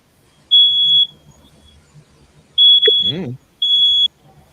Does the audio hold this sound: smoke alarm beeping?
yes